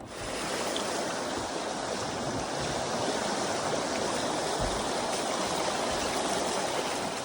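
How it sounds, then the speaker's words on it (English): Rushing water of the China Rapids on the Sacramento River, a section of lava rock narrowing the channel, roars as a dense, steady wash, loud and unbroken, with no voices. "we're entering the section folks call the China Rapids"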